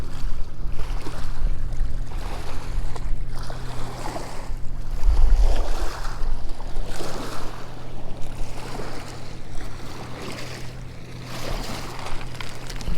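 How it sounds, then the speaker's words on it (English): Small waves wash against the rocky shore of the Willamette River at Meldrum Bar, Oregon, in slow recurring swells, with a low, continuous rumble of passing boats and some wind beneath. "waves crash against the shore, boats cruising by."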